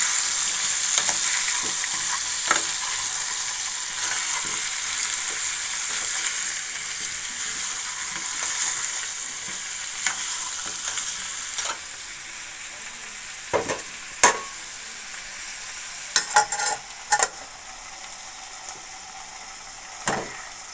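Pumpkin curry is stirred in a hot pan with a steady sizzle, while a spoon scrapes and clinks against the metal in several sharp knocks toward the end. Close and clear, no talking.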